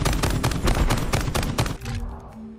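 A JAK Protean light machine gun from Call of Duty: Modern Warfare fires a loud, rapid full-auto burst of close shots for almost two seconds, then stops, leaving a faint hum of game ambience.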